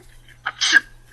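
A single sharp sneeze up close, a quick intake followed by a burst of breathy noise, in an otherwise quiet room.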